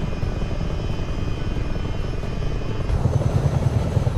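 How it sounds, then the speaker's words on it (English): Chinook helicopter in Microsoft Flight Simulator 2020 on a night flight, a steady, loud rotor and engine drone that holds throughout with a low, pulsing throb, no talking. "Oh, and another Chinook the other way."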